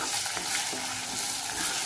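Tomatoes frying and being stirred in a pan while cooking urad dal amti, a steady close sizzle with soft scraping stir strokes, no talk.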